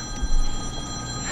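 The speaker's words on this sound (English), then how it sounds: "Does that sound like an office phone?" An office-style telephone ringing, a steady tonal electronic ring sustained through the whole moment over a low rumbling background.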